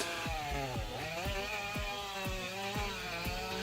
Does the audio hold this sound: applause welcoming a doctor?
no